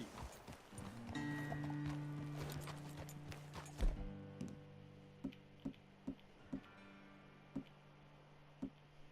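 Horse hooves clip-clop in the video game Red Dead Redemption 2. A busy passage with a soft tonal background gives way to slower, isolated hoof clops at a walking pace.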